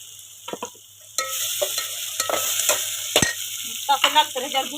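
Tomatoes drop into a hot pan of oil and curry leaves, setting off a sudden loud sizzle that keeps crackling, with spoon scrapes and stirring noises over it.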